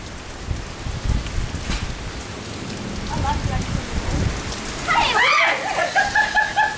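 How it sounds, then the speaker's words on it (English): Heavy rain falls during a Perth storm, a steady wash of drops pattering on surfaces, while people talk nearby and a whistling or squeaking tone rises near the end. "it's raining"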